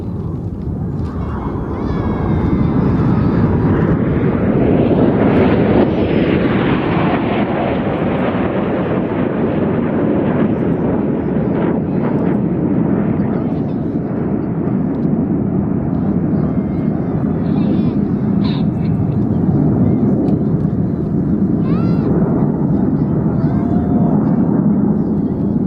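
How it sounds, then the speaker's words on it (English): A formation of aerobatic display jets roars overhead in a broad sustained wash of engine noise that swells and shifts as they pass, with commentary talk running over it. "Aircraft pulling to the vertical, the white smoke on, Red 1 about to roll to the left"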